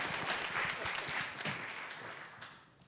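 Congregation at a United Methodist worship service bursts into a broad wash of applause that fills the room, then gradually thins and fades toward the end.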